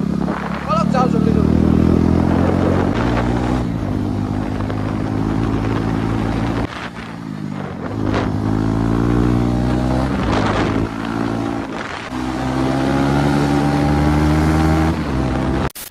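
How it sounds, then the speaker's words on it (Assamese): A KTM Duke 250 motorcycle with an open exhaust rumbles loudly and close by, its engine note rising and falling through repeated revs and gear changes, with a few sharp crackles along the way. "বাইকখনৰ মই মানে এক্সজডাল খুলিকৈ থৈ দিছোঁ তো আপোনালোকে অলপমান চাউণ্ডটো শুনাই দিছোঁ"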